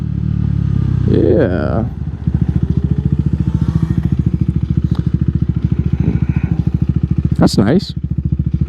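A small Honda CBR motorcycle engine idles nearby with a steady, fast pulsing thrum that holds for several seconds; someone speaks briefly over it.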